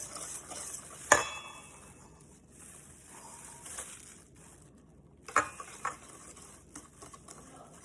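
A spoon stirs cocoa powder into brownie batter made with eggs, giving soft, wet scraping and a few sharp clinks against the bowl. The sound is quiet and close, with no talk.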